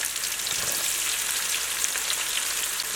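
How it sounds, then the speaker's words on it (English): Onions frying in hot oil for a Guyanese curry give a dense, continuous sizzle, close and steady throughout. "The first thing I want to do is go in with my onions. And we're going to start to let those fry up very well."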